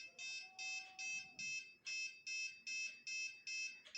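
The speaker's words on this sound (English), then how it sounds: "the piezo buzzer will ring continuously." A piezo buzzer in a doctor's-chamber patient alarm circuit sounds a repeated high, shrill electronic beep, about two pulses per second in an even rhythm, fairly faint and heard alone.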